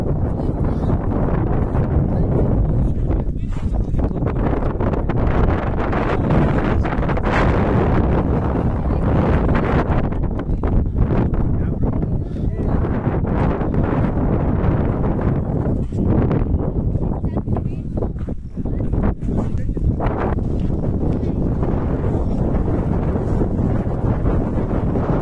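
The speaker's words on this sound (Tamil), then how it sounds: "காற்று பயங்கரமாக அடிக்குது." Strong wind buffets the microphone at a scenic hilltop viewpoint in Chikmagalur, Karnataka, a loud, continuous roar with gusty swells throughout, and faint voices partly buried under it.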